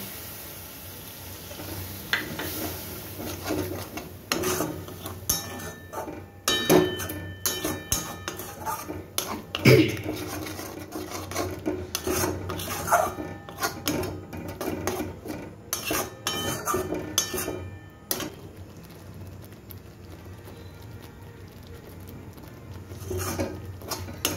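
A spoon stirs and scrapes a paste of cashew, almond and poppy seed into spices in a metal pan, giving repeated clinks and scrapes over a soft, continuous sizzle up close.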